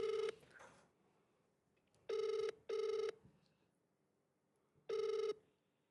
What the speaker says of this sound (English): Is it ringing? It's ringing.